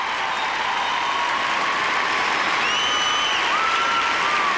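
Sustained applause from the crowd at a figure skating arena in Halifax after a veteran American skater's free skate, a dense, even roar of clapping throughout with a commentator's voice faintly beneath.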